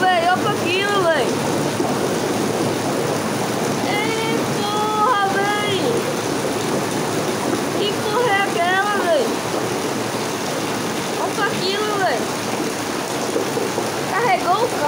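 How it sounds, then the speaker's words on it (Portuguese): Heavy rain and rushing floodwater from an overflowing river in Mundo Novo, Bahia, Brazil, pour steadily throughout, with excited voices shouting over the downpour. "Muita chuva aqui em Mundo Novo."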